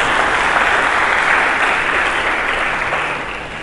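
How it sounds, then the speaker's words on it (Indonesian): Loud, dense applause from a church congregation honoring Jesus Christ, a steady wash of many hands clapping together that holds strong and eases slightly toward the end. "Coba berikan tepuk tangan yang meriah bagi Yesus Kristus."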